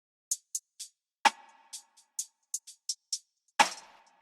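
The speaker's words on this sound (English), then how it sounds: "so I also have this lo-fi sounding hat, which has this very basic pattern." Lo-fi hi-hat in a mellow, acoustic-leaning ethereal beat, ticking alone in a sparse, slightly uneven basic pattern of short bright hits, with two louder crash-like accents that ring out briefly.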